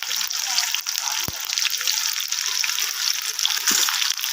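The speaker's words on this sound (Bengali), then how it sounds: "তো আমার তেলটা গরম হয়ে গেছে, আমি ছকটা দিয়ে দিলাম। 4টা লঙ্কা এগুলো দিয়ে দিলাম।" Cumin seeds and four green chillies sizzle loudly in hot oil, a steady close hiss broken by a couple of sharp clanks of utensils.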